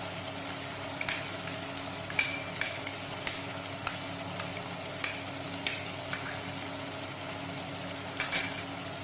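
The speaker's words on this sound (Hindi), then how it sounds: "और अच्छी तरह मिक्स कर लेंगे। मसाला हमारा अच्छी तरह फ्राई हो गया।" Chicken jalfrezi masala fries in a pan over a steady low sizzle while a spoon scrapes and stirs it in regular clinking strokes, close up and without talking.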